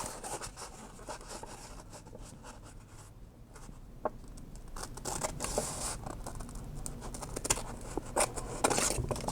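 Paper being trimmed for a junk journal envelope topper, with soft scratchy cutting and scraping strokes close by, irregular and fairly quiet, a few sharper snips near the end, no talking.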